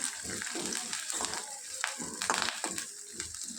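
Curry leaves and green chilli pieces sizzle softly in a pan while being stir-fried, with repeated scraping and crackling bursts as they are mixed.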